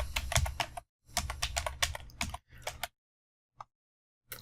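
Close, brisk clacking of keys on a computer keyboard in bursts of typing, broken by short pauses and a few isolated taps, with no talk.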